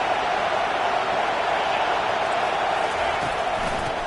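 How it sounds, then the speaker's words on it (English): A dense football stadium crowd roars steadily for the defense on a third down, a loud continuous wall of cheering and noise with no distinct breaks. "Decibels rising as the crowd gets behind this defense on third down"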